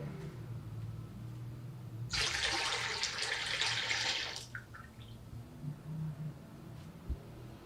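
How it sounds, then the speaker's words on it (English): Water poured out as a prayer libation at an outdoor ancestors festival, a steady splashing stream running for about two seconds and then stopping, fairly close against quiet background hum. "Pour that down into here."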